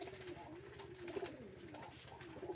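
Pigeons on a pigeon farm coo in a steady chorus of low, rolling murmurs, several birds overlapping nearby, the throaty calls swelling and fading continuously against a quiet background.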